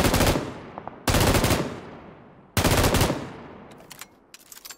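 Three long bursts of M249 light machine gun fire in PUBG, each sustained and loud, separated by brief pauses, with a few fainter distant shots near the end.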